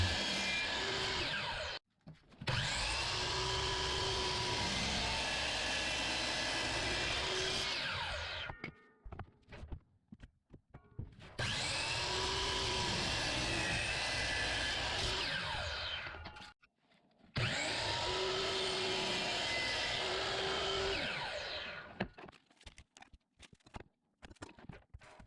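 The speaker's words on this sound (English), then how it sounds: "I simply take all the pieces over to the miter saw to get them down to their final lengths." A miter saw cuts wooden pieces to final length for a hook and ring toss game: three long, loud whirring passes, each spinning up, biting through the wood and winding down, separated by short quiet gaps with faint handling clatter.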